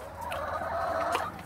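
An injured hen clucks in short, close vocal bursts over steady background noise, with a louder call near the end and no speech.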